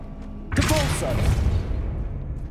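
A Depulso spell cast in the video game Hogwarts Legacy lands as a sudden loud burst, a booming whoosh that swells and then fades into a lingering rumble. Voices and game sounds continue underneath.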